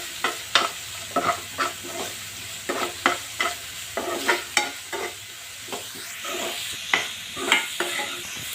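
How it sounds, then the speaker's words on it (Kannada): Vegetables frying in a pan with turmeric, salt and sugar for a veg sandwich filling, a soft steady sizzle punctuated by about a dozen sharp rhythmic spatula scrapes and taps, close by, no talking. "ಈಗ ಇದಕ್ಕೆ ಸ್ವಲ್ಪ ಅರಿಶಿಣ, ರುಚಿಗೆ ತಕ್ಕಷ್ಟು ಉಪ್ಪು, ಸ್ವಲ್ಪ ಸಕ್ಕರೆ ಹಾಕ್ಕೊಂಡು ಇದನ್ನು ಫ್ರೈ ಮಾಡ್ತಾಯಿದ್ದೀನಿ"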